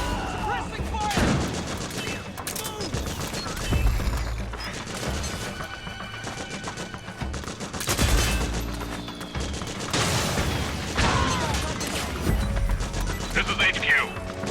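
Dense gunfire from a Metal Gear Solid 4 battle, bursts of rapid shots and crashing impacts rolling on continuously at close range, with soldiers shouting over the din.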